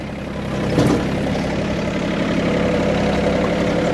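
A VST 932DI 30hp tractor engine runs steadily while the tractor turns, a continuous close diesel drone with a low rumble and no pauses.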